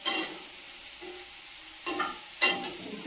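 Okra frying in a pan with chili powder, a quiet sizzle broken by three sharp bursts of scraping as the pieces are stirred, close up and with no talk.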